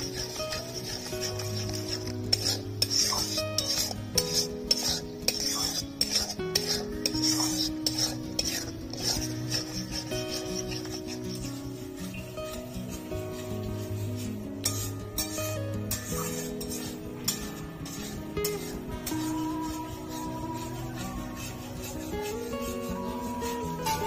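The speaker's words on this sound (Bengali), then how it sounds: "মশলাটা 2 মিনিট ভালো করে কষিয়ে নিয়েছি। দিয়ে দেবো টমেটো বাটা," Spiced masala paste with tomato paste being stir-fried for mutton curry, a utensil repeatedly scraping and clinking against the pot in uneven strokes over a steady low cooking hiss, close by, with no talk.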